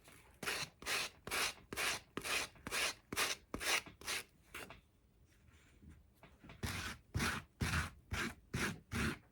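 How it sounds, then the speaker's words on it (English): A sanding block rubs gently over napkin art in steady back-and-forth strokes, a dry scraping rhythm that pauses briefly midway before resuming at a close, even pace. "So I am gonna take a sanding block, not a brush, okay?"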